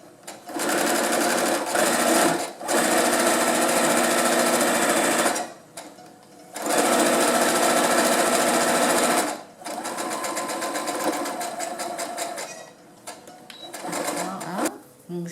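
Sewing machine stitching a fabric face mask about 1 cm from the edge, running in several long motor bursts separated by short pauses, with a brief reverse at the start; close and steady, with no talk over it.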